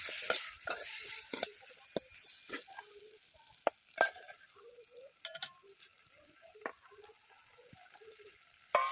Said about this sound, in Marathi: सर्व असं हलवून घ्यायचं